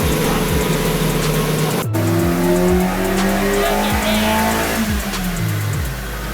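A car engine revs hard on a dyno through repeated rising sweeps, climbing and dropping again and again, loud and close with a brief sharp break early on.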